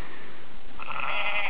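Electronic sheep bleating from the maeSheep game on a Nokia N900 handheld, a thin synthetic bleat rising over a quiet start and holding steady through the second half, with no talking.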